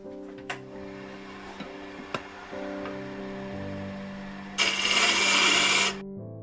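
A small mulberry wood bowl turns on a lathe: a steady motor hum with a few light ticks, then a brief, loud, harsh burst of cutting toward the end before the sound drops away.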